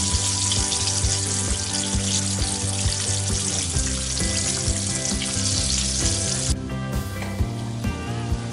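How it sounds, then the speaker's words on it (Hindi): Vegetables fry in hot oil until crispy, giving a loud, steady sizzle with a burst of brighter crackling near the end and no voices. "तो ये वेज भी फ्राई हो गया है, इसको भी मैं निकाल लेती हूँ।"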